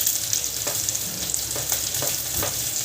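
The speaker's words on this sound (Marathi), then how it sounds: "मिरची कढीपत्ता परतून घ्यायचे आपल्याला" Green chilies and curry leaves sizzle steadily in hot oil, a continuous frying hiss with a few stirring scrapes, close and alone.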